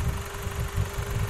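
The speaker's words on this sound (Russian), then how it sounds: "Ну сейчас вот он ровно работает, двигатель." A Porsche Cayenne engine, previously showing an ignition misfire in the second cylinder, idles evenly with a close, steady low rumble and a faint constant whine.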